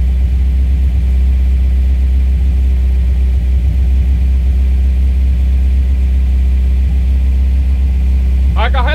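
Mitsubishi Evo 3 engine idling steadily after a cold start, a loud, constant low rumble close by that runs without a break from start to end, with a brief chirp at the very end.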